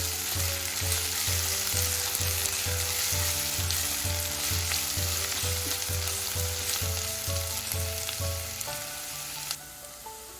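Onions fry in a pan for tomato pulao, a steady loud sizzle running throughout with a regular rhythmic pulse from stirring, heard alone without talk.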